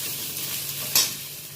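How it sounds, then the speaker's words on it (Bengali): Fish bread pakora fries in a little oil with a constant, close sizzle and hiss, broken by one short, sharper crackle partway through. "ভাজা ভাজা হয়ে গেছে।"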